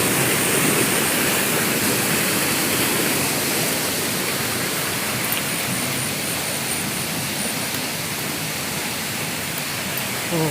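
Nine-tier waterfall at Suan Phueng, Ratchaburi, running full after rain, gives a loud, steady broadband roar of falling water. It stays unbroken throughout with no voices.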